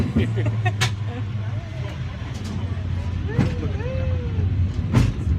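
Riding a San Francisco cable car: a constant mechanical rumble and road noise with sharp clanks and squeals, heard up close while people chat throughout.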